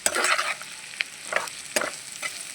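Chili chicken sizzles in a pan as it is stirred with chili powder, salt and pepper, a burst of frying followed by several scraping stirs at regular intervals over a steady sizzle, close with no talking.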